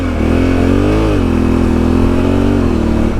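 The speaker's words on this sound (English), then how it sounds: "There is something about riding off-road and finger blasting this bike." A Honda Africa Twin DCT motorcycle accelerating hard off-road, its engine loud and close with a continuous growl that rises and dips through gear shifts, no voices.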